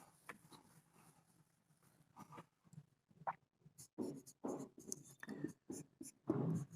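A pen scratches out a formula on paper during a differential equations lesson, soft uneven strokes and taps that are faint at first, then grow closer and more distinct in short bursts.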